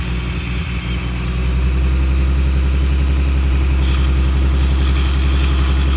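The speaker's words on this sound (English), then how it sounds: "You can hear that it's making a sucking sound." Ford Mustang engine idling steadily while sucking in Seafoam, a low rumble with a rhythmic, airy sucking pulse running through it, close and continuous.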